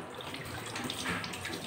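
Tap water runs steadily into a sink during handwashing, a close, even splashing hiss with no pauses and no talk.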